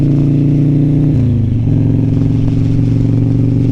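Old Harley-Davidson Sportster with loud pipes rumbling close by, a steady low exhaust note that dips briefly and then settles back into a throaty idle.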